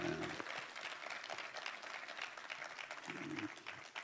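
Applause from the audience at a political party leader's talk concert, a steady broad wash of clapping across the whole stretch, moderately loud, with faint voices underneath.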